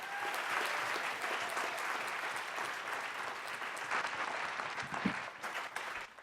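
Steady applause fills a town hall, honoring Carol: a sustained wash of clapping at a moderate distance, holding evenly for several seconds before thinning slightly near the end.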